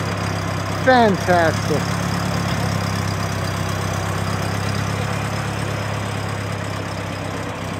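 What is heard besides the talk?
1919 Templar Roadster engine idling, running rich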